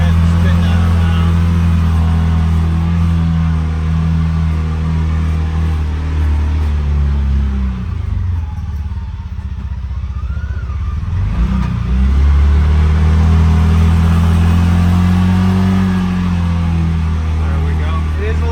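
A CFMOTO UForce 600 side-by-side runs at steady low engine drone throughout, loud and close from inside the cab, briefly dipping midway before resuming; no one speaks during it.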